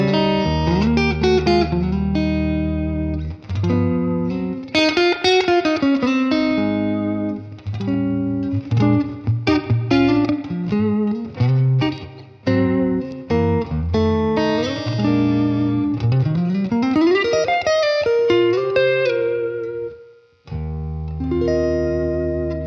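Electric guitar played through a Line 6 Helix Stadium on a Luxe black amp model of a 1960s black-panel Deluxe Reverb with Hot Springs reverb, clean chords and melodic runs ringing with spacious reverb, steady and full for about twenty seconds.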